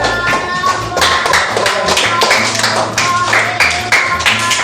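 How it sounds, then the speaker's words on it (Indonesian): A school class claps in applause, a loud, close patter of many hands with rhythmic bursts that continues steadily over a low background hum. "Ya, tepuk tangan ya."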